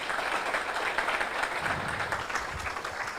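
An audience at a Hindi-language discussion forum applauds to welcome a guest, a dense, even patter of many hands clapping continuously throughout with no speech on top.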